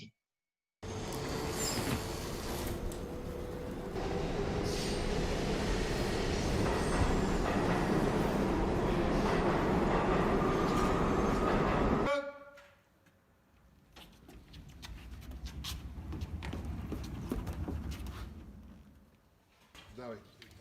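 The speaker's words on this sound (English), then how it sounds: "Madonna leaving on the train, pulling away from the platform" In a drama film scene, a train pulls away from a platform, giving a steady loud rumble that cuts off sharply near the end and leaves quieter ambience with faint movement.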